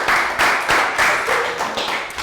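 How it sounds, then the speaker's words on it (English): A classroom group of young children gives a round of applause during a primary science lesson, a few seconds of dense, close clapping in repeated bursts with no talking. "Okay, round of applause,"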